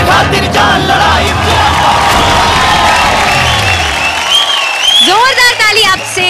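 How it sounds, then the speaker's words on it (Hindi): An audience at a Bhojpuri singing reality show breaks into loud applause with cheering and whoops, a dense sustained roar of clapping and yells throughout. "जोरदार ताली"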